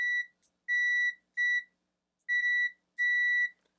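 A ZOTEK ZT-5566SE multimeter on its continuity setting sounds a clear, high electronic tone in four separate beeps of about half a second each, with a couple of tiny blips between them, against silence.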